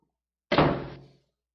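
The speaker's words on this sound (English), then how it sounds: "The boy replied, "There's no food here," and closed the door." A single door swings shut with a solid thunk and a short decaying rumble, heard close and loud on its own with no talking.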